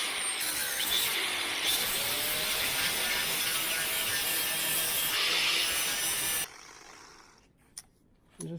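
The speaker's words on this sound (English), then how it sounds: "let's get that ground down." An angle grinder grinds down a metal makeshift wrench while rock sliders are fitted to a General XP4, giving a loud, steady abrasive whine for about six seconds before it cuts off and winds down.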